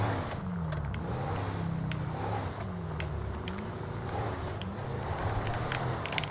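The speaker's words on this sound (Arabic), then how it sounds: "خذ السيارة الى الوكالة" A car driven in the video game GTA 5 gives off a steady engine drone that rises and falls slightly, with no talking.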